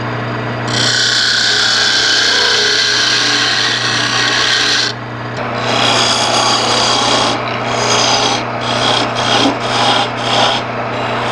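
A wooden Christmas ornament turned on a lathe: a long, loud rasping cut of the tool against the spinning wood, then a run of shorter scraping passes in a quick rhythm, over a steady motor hum.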